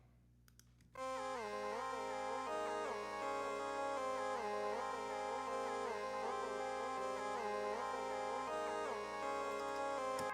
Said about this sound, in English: Then over here at the hook, we have this melody that I made.